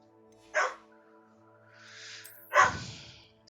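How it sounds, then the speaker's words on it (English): A pet dog indoors gives two sharp barks about two seconds apart, close and loud, with a faint whine between them and no talking. "Sorry about the barking, everybody."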